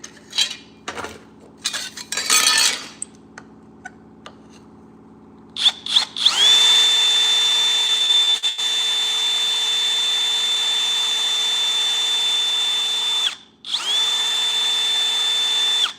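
A power drill drives 10-24 nut inserts: scattered metallic taps and clinks first, then a long steady high motor whine that stops briefly and starts again.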